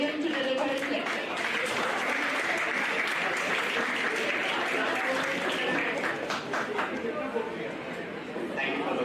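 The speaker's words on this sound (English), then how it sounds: "Please join me in extending a warm round of applause as I invite Dr. Shamrendra Vikram sir to the podium to deliver his lecture" An audience claps warmly to welcome a lecturer to the podium at an anatomy lecture, sustained dense applause with murmured chatter underneath, fading slightly toward the end.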